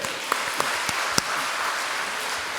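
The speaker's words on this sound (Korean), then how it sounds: "우리 하나님께 영광의 박수" Sustained congregational applause fills a Korean Sunday worship service in a church, a steady wash of clapping with a few sharper claps standing out.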